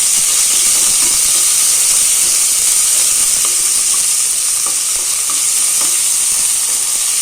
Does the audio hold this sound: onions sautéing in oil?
yes